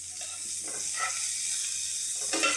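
Oil sizzles in a frying pan as a steady hiss, with a few soft stirring scrapes and small pops over the constant crackle, close and moderately loud.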